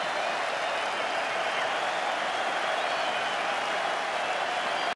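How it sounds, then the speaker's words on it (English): Cricket crowd at Old Trafford during the 2005 Ashes applauding a batsman leaving the field after a 166-run innings, a dense, continuous roar of clapping and cheering from a large stadium audience. "Vaughan leaves the field to thunderous applause."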